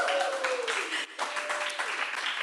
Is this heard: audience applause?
yes